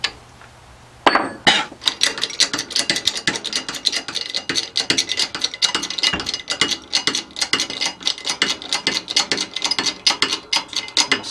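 A CVT secondary pulley from a JF011E / RE0F10A transmission rebuild being pressed into place, with a dense run of close metallic clicks, taps and ratcheting knocks at a steady uneven rhythm after a brief quiet start.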